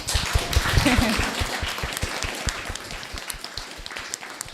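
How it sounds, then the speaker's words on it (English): An audience claps in a lively burst that gradually thins out, with a voice briefly heard near the start. "Can we give them another clap for being amazing?"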